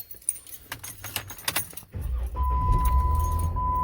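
Keys jangle in bursts, then a 2015 two-door Jeep cranks and starts, settling into a steady, loud idle with a faint whine above the engine rumble.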